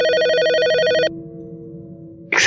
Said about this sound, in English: went to the phone and dialed.